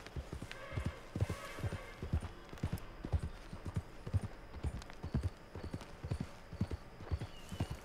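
A newly acquired horse gallops in Red Dead Redemption 2, its heavy hoofbeats thudding in a fast, rolling rhythm, loud and near, with faint speech now and then.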